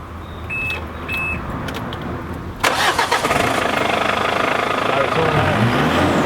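A Mitsubishi L200 pickup fitted with a decat pipe cranks and fires up after a few seconds of quiet hiss, then settles into a loud, rough, steady idle close by.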